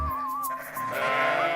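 A sheep bleats once in a short, wavering call, close and clear with a slight tremble, standing alone without other animals or voices around it.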